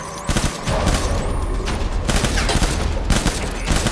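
Rapid gunfire at a skeleton in the video game Death Stranding, dense overlapping bursts of loud, close shots continuing for several seconds.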